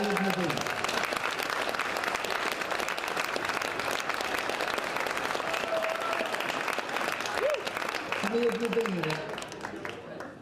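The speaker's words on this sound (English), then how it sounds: "give a hell of a round of applause to all the people that are far younger than you" Audience gives a big round of applause at a Damhsa Glas event, dense sustained clapping throughout, fading near the end as a voice and whoops emerge over it.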